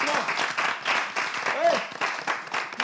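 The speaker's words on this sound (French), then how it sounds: "mérite des applaudissements" Audience applause at a lively French-language show, a brisk patter of clapping running throughout the moment, with voices mixed in.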